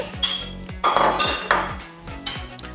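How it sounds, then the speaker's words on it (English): Ingredients such as coconut flour dropped and scraped into a bowl for raw dog treats, giving several clinking, knocking bursts of dish and utensil noise at close range with no talking. "simply pop your ingredients in a bowl"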